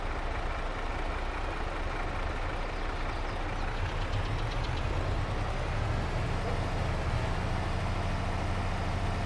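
Farm tractor engine in Farming Simulator 22 laboring as it spins for traction, a continuous low heavy drone that rises and deepens midway, with no talk over it.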